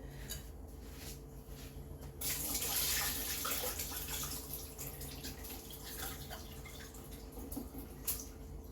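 Rice grains are swished and rinsed by hand in a bowl of water while preparing kheer, a faint, soft sloshing and trickling that briefly swells louder near the start, with no talking.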